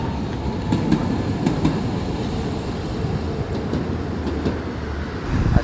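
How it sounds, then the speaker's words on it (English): A historic Tokyo tram rumbles steadily along street rails, a continuous low rolling noise with faint clicks and a light metallic squeal, fairly close. "Now there's finally one."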